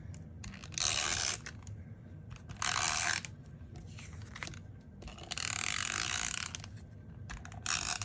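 A handheld tape runner dispensing adhesive onto luster paper during card making, giving repeated ratcheting, tearing rasps in separate bursts, close up and fairly quiet.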